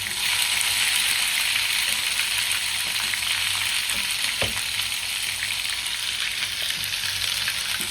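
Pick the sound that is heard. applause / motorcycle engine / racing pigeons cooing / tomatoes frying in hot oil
tomatoes frying in hot oil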